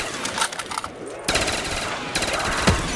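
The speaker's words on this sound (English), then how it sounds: "Fireworks go ham" Fireworks burst in rapid crackling volleys in Minecraft, dense popping salvos in two or three loud bursts, sharp and close, with a brief lull between them.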